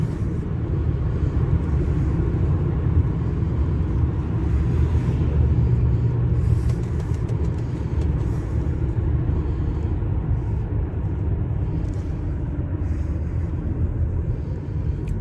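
Heard from inside the cabin, a 2016 Audi A6 quattro with a 2.0 diesel engine accelerates hard in third gear, giving a steady loud low rumble of engine and road noise with no break.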